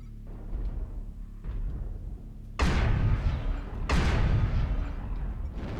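Weapon fire in MechWarrior Online, a Rifleman 3N mech with heavy autocannon-style guns firing on a Warhammer mech: two heavy booming bursts over a low engine rumble, with no voices.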